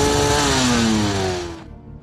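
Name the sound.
motorcycle riding off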